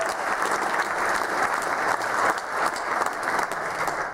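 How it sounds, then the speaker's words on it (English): A theater audience applauding after a show, sustained full-house clapping that stays broad and even for several seconds without speech. "So let's give them a round of applause."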